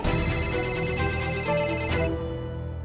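A telephone ringtone sounds as a call is placed, a bright repeating electronic melody that plays for about two seconds and then cuts off, leaving a faint hum.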